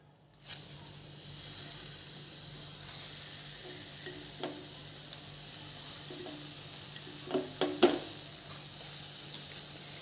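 Kharman leaves drop into a pan with black cumin and sizzle softly and continuously, with a few stirring clicks and scrapes, louder near the end.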